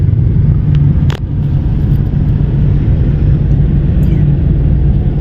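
Steady road traffic rumbles in Puerto Princesa City after a flood, a loud continuous drone of nearby car engines with a brief passing swell and no talk.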